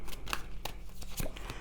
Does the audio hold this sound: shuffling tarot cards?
yes